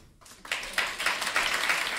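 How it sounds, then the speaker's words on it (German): Clapping from a theater audience rises quickly after a brief quiet start and settles into a fairly loud, dense round of applause with some distinct claps. "Einen großen Applaus für Marlene und..."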